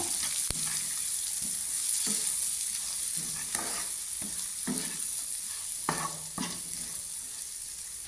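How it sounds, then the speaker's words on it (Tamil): Onions sauté in oil for an egg curry, a constant close sizzle broken by regular scraping knocks of a spatula stirring the pan, with no talking. "நல்லா வெங்காயத்தை வதக்கி விடுங்க."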